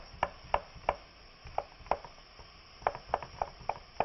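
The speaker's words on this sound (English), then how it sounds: "we're going to slice up an apple" A knife cuts an apple into thin slices on a cutting board, each stroke ending in a crisp, close knock on the board, about a dozen of them in an irregular rhythm over a quiet background.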